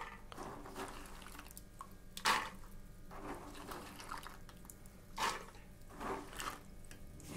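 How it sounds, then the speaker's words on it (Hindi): Overnight soaking water from kidney beans tipped out of a pot in a home kitchen, a few soft splashing pours with drips in between, fairly faint and close. "मैं जो रात का पानी है वो पानी फेंक दे रही हूँ"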